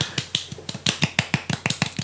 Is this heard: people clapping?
yes